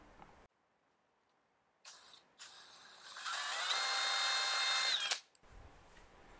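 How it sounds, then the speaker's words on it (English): A power drill whirs up and bores steadily for a couple of seconds, loud and close, drilling a pilot hole in the top of a Honda EU2200i generator, then stops; quieter handling noises come before and after. "we're going to drill a hole in the top as a pilot hole"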